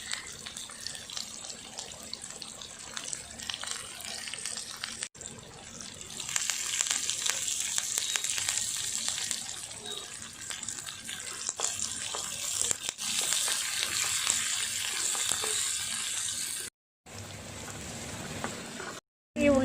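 Shallots and dried red chilies fry in hot oil for Kerala-style sambar, a steady hiss and crackle running throughout with a brief break near the end.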